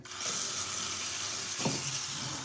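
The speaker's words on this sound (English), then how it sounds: "I will rinse the noodles in cold water" Cold tap water runs steadily over cooked noodles, making a continuous close hissing splash with no talking.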